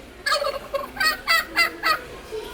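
Electronic turkey gobble played from a farm animal sound book, a rapid warbling burst of repeated notes, loud and close, with no talk over it.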